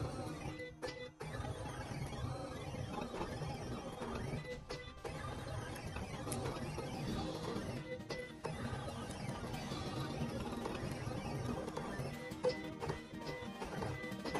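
A Silhouette Cameo 5 cutting machine fitted with a heat pen applies foil, a faint, steady mechanical whir with rapid ticking and carriage movement, the motion sped up, with a few brief clicks.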